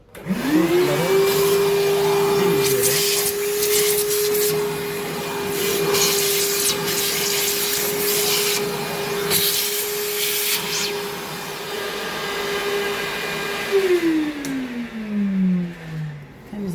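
A loud vacuum cleaner, cleaning around a desktop laser machine, whines up to speed, runs with a steady high drone and scraping bursts, then winds down at the end.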